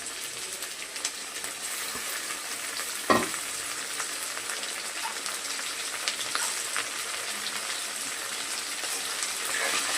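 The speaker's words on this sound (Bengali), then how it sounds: "চিকেনটা একটু ভাজা হবে।" Chicken pieces sizzle in a pan for chow mein, a continuous steady frying hiss with a brief clatter of stirring near the start, no voices.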